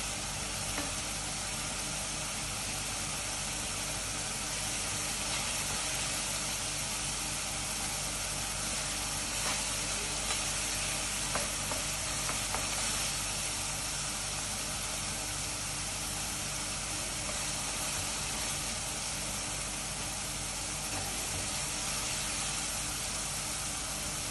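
Sliced onions frying in a pan for a simple chicken curry, a loud, continuous broadband sizzle and hiss holding steady throughout, with faint occasional stirring ticks and no voices.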